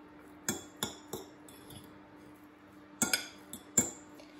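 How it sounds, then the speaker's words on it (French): A utensil clinks against a bowl while vegetable fritter batter seasoned with smoked paprika is stirred, a few sharp close taps in two quick bursts, with no talk. "Mélangeons."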